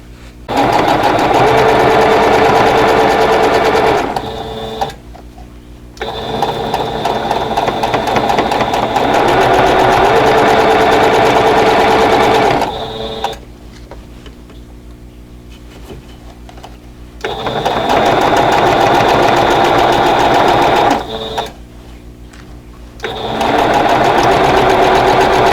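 A sewing machine stitches quilt block seams in several steady whirring runs, each lasting several seconds and separated by short quiet pauses, close and clear with no talking.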